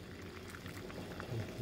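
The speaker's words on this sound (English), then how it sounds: "it ain't even been boiling that long" Tea leaves boiling in a pot to make tea liquor, giving a soft, continuous bubbling simmer at close range with gentle pops rising toward the end and no talking.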